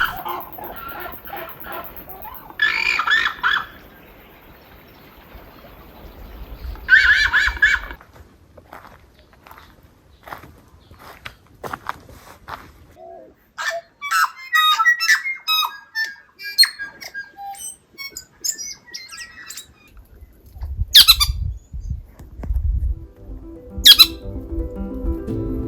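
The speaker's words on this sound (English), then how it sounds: "and there's lots of bird life." Birds at Paradise Bay in the Bay of Islands, several bursts of squawking and clucking calls scattered among quieter rustling stretches, close and fairly loud at times, with shuffling footstep-like sounds.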